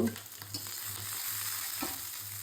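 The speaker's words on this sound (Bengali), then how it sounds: "পেঁয়াজটা দিয়ে পেঁয়াজটা হালকা ভাজা দিয়ে নেব" Onion fries lightly in oil with a soft, continuous sizzle, a few spoon scrapes and stirring taps, and a faint steady hum underneath.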